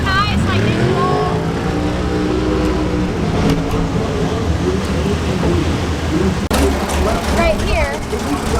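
A drag race car engine roars loudly and continuously during Drag Week, its pitch climbing as the revs rise, with a voice talking over the din.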